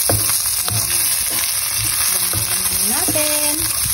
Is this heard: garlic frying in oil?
yes